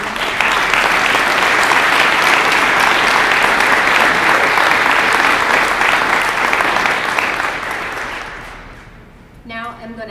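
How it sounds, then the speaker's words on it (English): A large audience at a physician assistant white coat ceremony claps in a loud, steady, continuous roar for about nine seconds, then it fades and a voice begins speaking. "Let's give them all a big round of applause."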